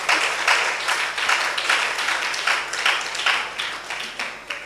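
Church congregation applauding during a Sunday service after a healing account, a dense sustained wash of many hands clapping at steady loudness with no voices over it.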